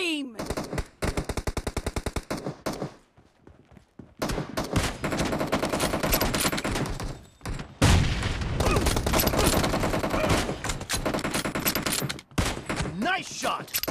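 Rapid automatic gunfire rattles in long bursts in a shooter video game, broken by short pauses and single shots, loud and close throughout.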